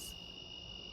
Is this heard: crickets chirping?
yes